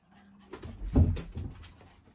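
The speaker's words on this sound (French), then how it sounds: "j'ai mon chien qui arrive" A dog arrives close by, whimpering softly and panting in quick breaths, with a shuffling thump at its peak and no talk.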